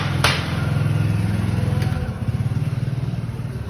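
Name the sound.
motorcycle riding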